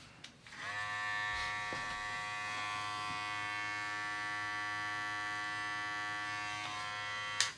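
Electric hair clippers with the blade fully open buzz steadily and fairly quietly while cutting hair for a drop fade, an even hum with no talk.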